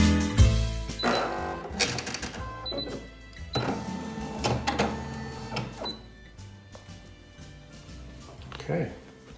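A Brother SE1900 embroidery machine stitching the outline of a snowman applique, a busy mechanical whirring and clattering that starts and stops in bursts, close by, with people talking over it.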